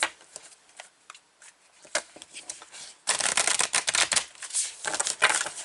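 Tarot cards being shuffled close up, first as sparse soft riffles and taps and then as a dense, rapid flurry of flicking cards, with no talking.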